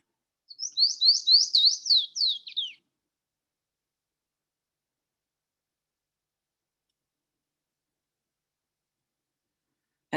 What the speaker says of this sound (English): we found a white-collared seed eater